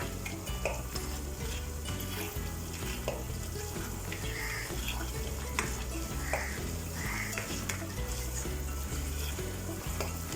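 Bombay halwa mixture with dry fruits stirred in a pan, a steady sizzle with a scraping spoon beating in a regular rhythm and occasional metallic clinks, close and continuous throughout.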